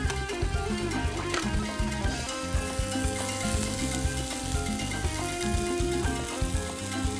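Chicken thighs for a Moroccan dish sear loudly in a hot pan. The crackling sizzle stays dense and continuous, with scattered pops and spatters on top.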